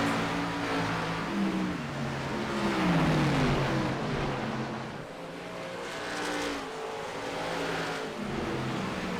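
Stock cars race at Phoenix in a NASCAR Xfinity racing video game, their engines droning and shifting pitch as the pack roars past, loud and continuous with no voices.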